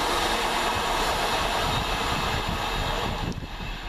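A London Midland Class 323 train arrives at a Birmingham-area station with a steady, broad rumble and hiss. It stays loud and close throughout, with no talk.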